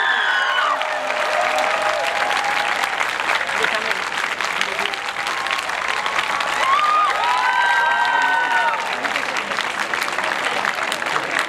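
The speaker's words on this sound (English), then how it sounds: "Please give her a huge round of applause" Audience applause at a college prize distribution ceremony, loud continuous clapping with some cheering running throughout, a sustained crowd ovation.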